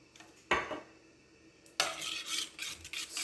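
A utensil scraping and clinking against a bowl while muffin batter with homemade vanilla is stirred, one sharp knock followed by a longer stretch of brisk, close scraping strokes.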